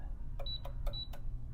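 Short electronic keypad beeps on a door lock while a user code is entered, two clear tones among several button presses in a quiet room.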